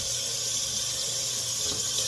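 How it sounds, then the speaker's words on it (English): Dyed Easter eggs rinsed under a running kitchen tap, a steady hissing splash of water into a sink that holds evenly throughout, close and fairly loud with no talking. "and then you rinse it"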